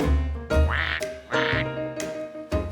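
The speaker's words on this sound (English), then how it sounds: "Ducks swam in water" Ducks quack loudly and close by, a few separate nasal calls spaced about half a second apart, with no other sounds.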